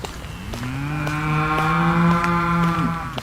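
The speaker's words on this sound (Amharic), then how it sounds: "እኔ በሬ ነኝ።" An ox gives one long, steady, loud moo lasting about three seconds, close and alone.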